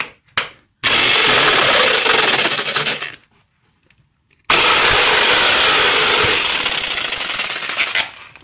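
A power tool cuts into the plastic seat belt post inside a VW Gol G2, working from above. Two loud, sustained buzzing bursts are heard alone, separated by a pause of near silence.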